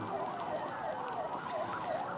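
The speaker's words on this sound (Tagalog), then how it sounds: "Mapansin nyo, ang daming fire trucks." Sirens from a large number of fire trucks, around twenty, arriving at a neighborhood fire in Sitio Kanluran, Zapote; a wailing, rising and falling siren tone repeats steadily across the clip at moderate distance, with continuous background noise.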